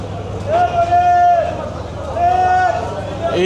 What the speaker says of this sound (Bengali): এই লঞ্চের মাইকিং করছে, যারা যারা এই লঞ্চে যাবে তাদেরকে মাইকে ডাকা হচ্ছে।